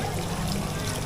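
Water splashes and trickles onto the back of a person's head in the Shibati traditional-style area of Chongqing, China, a brief close, wet rush lasting about a second.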